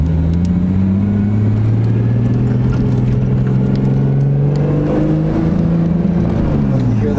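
A car engine sputters and labours while driving in second gear, a loud, close droning rumble whose pitch wavers and drops unevenly; the car is running a little warm.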